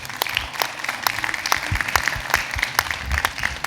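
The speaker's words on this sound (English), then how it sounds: "can I ask for a round of applause for the panelists?" Conference audience giving the panelists a round of applause, a crisp, lively patter of many hands clapping with distinct individual claps standing out, close and fairly loud throughout.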